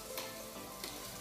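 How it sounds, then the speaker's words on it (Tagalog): Garlic and onion frying in a pan for adobo, giving a steady close sizzle with a couple of brief louder crackles, no voices. "Iprito daw niya muna ng konti."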